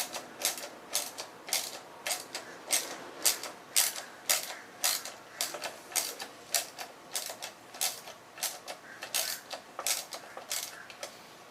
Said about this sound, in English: So I can get to these two with a ratchet.